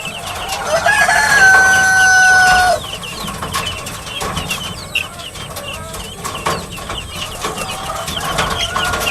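Guinea fowl call nearby: a loud, drawn-out cry at the start, followed by a string of shorter, scattered calls and chatter at moderate volume outdoors.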